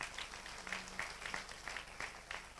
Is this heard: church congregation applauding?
yes